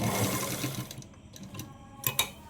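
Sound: sewing machine stitching a Punjabi dress

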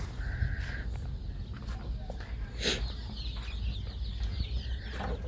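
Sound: chickens clucking

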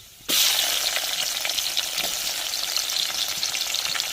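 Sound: chopped onions frying with curry masala in a pan

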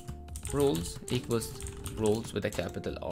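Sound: typing on a computer keyboard

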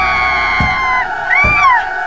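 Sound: screaming sound effect in a radio horror drama

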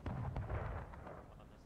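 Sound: gunfire in the video game War of Rights

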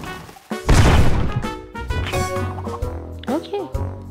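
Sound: cannon booster blast in the video game Royal Match

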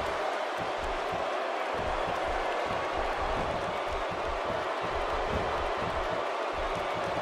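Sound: crowd cheering in WWE 2K16 video game

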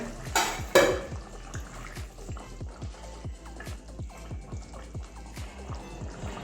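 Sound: pot lid being opened while cooking potatoes

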